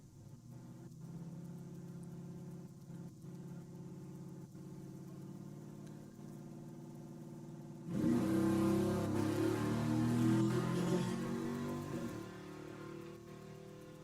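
A 1970 Camaro with a 400 cubic inch small block at a drag strip, first idling with a low rumble, then bursting into a loud, full-throttle roar as it launches down the track.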